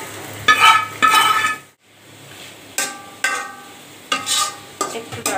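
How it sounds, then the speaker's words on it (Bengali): Fried vegetables are stirred into cooking spice masala in a pan, with sizzling and sharp clattering strokes of a spatula in irregular bursts separated by short pauses, close and fairly loud. "মশলা কষানোর মধ্যে ভাজা সবজিটা দিয়ে কষিয়ে নেব।"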